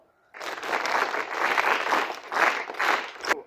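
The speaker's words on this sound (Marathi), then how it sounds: "टाळ्या वाजवा" A school audience claps hands in a burst of applause lasting about three seconds, dense and fairly close, rising and falling slightly before stopping abruptly.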